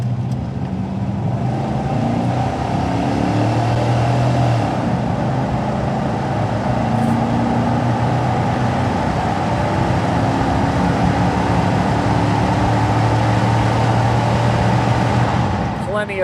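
Steady drone of a 1997 Chevrolet K1500 pickup with a 5.7 V8 cruising on the road, a continuous low engine and road hum that stays even throughout, with a voice speaking over it.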